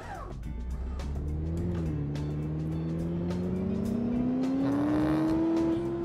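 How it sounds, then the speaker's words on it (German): A Nissan GT-R's turbocharged engine in the City Car Driving video game drones loud and steady, its pitch climbing gradually as the car accelerates, with no voices over it. "Man merkt auf jeden Fall, dass es ein Turbomotor sein könnte."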